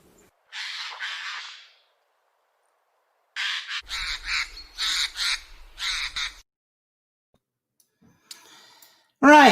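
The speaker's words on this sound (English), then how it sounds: "And that is the jays, European jays." Eurasian jays giving a series of harsh, raspy screeching calls, a pair of calls then a cluster of four or five rapid rasps after a pause, fairly close and loud, with a sharp squawk at the end and no talking.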